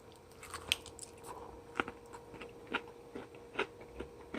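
Crunchy oven-fried chicken coated in pork skin and battered, being bitten and chewed up close: sharp crisp crunches spaced about a second apart amid quieter chewing, no speech.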